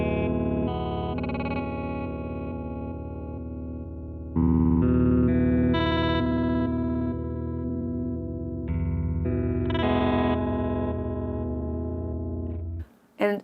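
Red Panda Particle V2 granular delay processing an instrument into a glitchy lo-fi texture, with stuttering, chopped repeats and shifting smeared tones that swell and jump in loudness over about thirteen seconds before cutting off.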